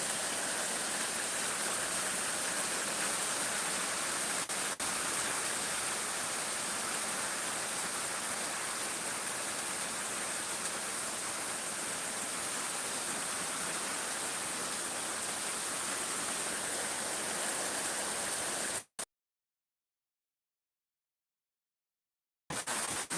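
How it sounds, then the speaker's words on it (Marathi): A continuous, dense hiss of heavy rain over farmland fills the air at a steady level, then cuts out abruptly near the end. "जोरदार पाऊस पडत आहे"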